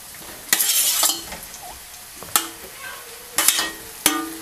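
Lauki muthia pieces roast with sesame seeds in a pan over a soft background sizzle, broken by four or five sharp, close spatula scrapes and stirs.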